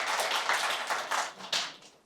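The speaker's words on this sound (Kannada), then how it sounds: "ಅವರಿಗೆ ದಯವಿಟ್ಟು ಒಂದು ಚಪ್ಪಾಳೆ ತಟ್ಟೆ" An audience claps together for a short burst at a university lecture event, a dense spread of hand claps held steady at moderate volume, then thinning as it ends.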